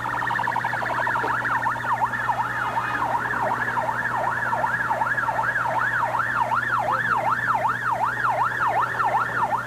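Ambulance siren at an accident rescue scene with dozens of injured, wailing loud and steady in repeating rising-and-falling sweeps throughout, over a constant low engine hum and no talk.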